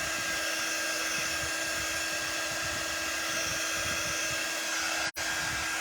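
A hair dryer runs at a steady, loud whir to dry paint on a canvas, holding a constant tone with a brief cutout near the end, and no one speaks.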